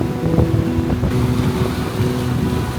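Strong wind out at sea buffets the microphone in steady gusts, mixed with the low drone of a boat engine close by, with no voices.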